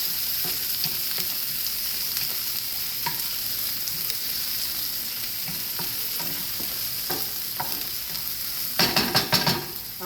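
Vegetables sweat in a frying pan with a steady, close sizzle and occasional stirring scrapes, building to a brief louder crackle near the end; no one speaks.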